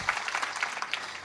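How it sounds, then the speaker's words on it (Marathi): Audience clapping at a devotional kirtan gathering in Maharashtra, a brief, dense patter of many hands applauding at moderate loudness, with no voices over it. "लहान बालकांसाठी जोरदार टाळी वाजवा."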